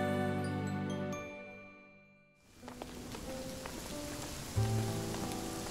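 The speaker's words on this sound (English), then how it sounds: "It's been raining nonstop all day long." Steady rain patters on a surface, with light tinkling drips scattered through it; a brief musical tone fades out before the rain takes over.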